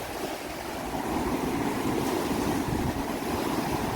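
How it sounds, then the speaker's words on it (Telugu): Steady surf washing onto Varkala Beach, a continuous broad rush of breaking waves with some wind noise, fairly loud and without talk. "చాలా అద్భుతమైన బీచ్ చూడండి"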